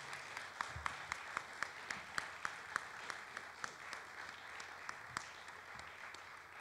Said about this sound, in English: I would like to have a warm round of applause for our lecturer.